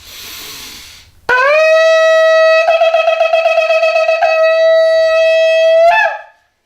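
A ram's horn shofar is blown during a church sermon: a single long, loud, steady blast with a wavering middle and a rising squeal at the end, preceded by a short stretch of crowd noise.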